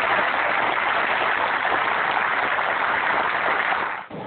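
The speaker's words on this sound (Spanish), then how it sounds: "Yo creo que eso merece un aplauso." A dense, even wash of applause from a crowd of workers at a union meeting, loud and continuous with no voices over it, ending in an abrupt cut just before the close.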